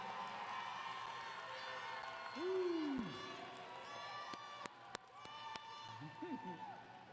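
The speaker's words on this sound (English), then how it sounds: "Give them a big hand." A high school graduation crowd cheers and applauds, with a loud whoop rising from the swell of mixed voices and scattered claps, while people talk nearby.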